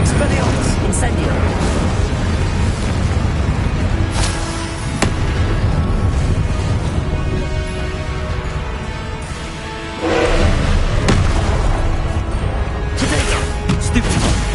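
Spell effects in the Hogwarts Legacy video game crackle and burst with loud fiery explosions and crashing impacts, dense and continuous. Voices shout incantations throughout the combat.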